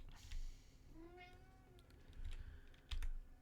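A cat gives a single rising meow, close and fairly quiet, while a computer keyboard clicks in scattered bursts around it.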